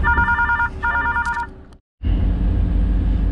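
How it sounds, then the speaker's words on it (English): A telephone rings with rapid warbling trills in two bursts, loud and close, before cutting off abruptly into a brief silence and then a steady background hum. "the phone always rings"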